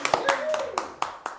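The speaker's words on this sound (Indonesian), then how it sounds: "Kita berikan aplaus dulu." Short burst of audience applause for podcast guests at a Jogja Travel Community podcast gathering, a few sharp claps over a voice talking through it.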